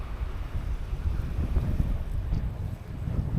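Outdoor wind buffeting the microphone while walking through a market village area in Hua Hin, Thailand, a steady low rumble lasting throughout with small gusts and no talking.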